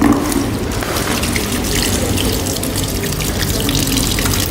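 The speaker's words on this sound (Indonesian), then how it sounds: "Bilas di air mengalir." Hands being rinsed under a running tap after handwashing, a loud, close, continuous gush of faucet water splashing into a sink with no talk over it.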